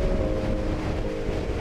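Wind blowing at a canyon viewpoint near a waterfall in Iceland, a steady low roar buffeting the microphone throughout, loud and close with no voices.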